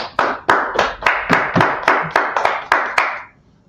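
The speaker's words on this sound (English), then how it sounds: "Let's clap it up for the Most High in Christ." Rhythmic group clapping at a religious class, about ten loud, evenly spaced claps in unison ringing briefly in a reverberant room, then stopping.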